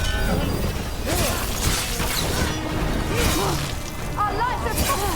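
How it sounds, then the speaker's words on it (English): In the Dragon Age: The Veilguard video game, chains shatter to free a bell, heard as metallic cracks and crashes mixed with combat whooshes while game characters talk over the noise. "Shattering those chains will free the bell."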